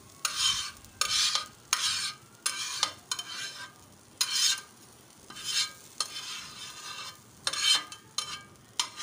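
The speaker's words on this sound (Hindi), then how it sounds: "अब ये इन्हें किसी दूसरे बर्तन में निकाल रहे हैं।" Fried masala scraped out of a cooking pot into another vessel with a metal spoon, giving a steady series of rasping scrapes and light sizzles, close by and without talk.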